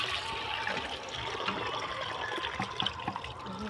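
Fish being washed by hand in water before cooking on a stove: steady splashing and swishing of water with small sloshes and drips, close but fairly soft, without speech.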